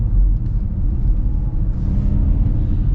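A 2025 Ford Mustang Mach-E Rally in Unbridled mode gives off a steady, loud synthetic electric propulsion hum with a low rumbling drone inside the cabin, continuous and without talk.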